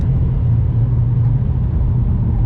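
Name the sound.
BMW E92 M3 car sounding damaged on the Nürburgring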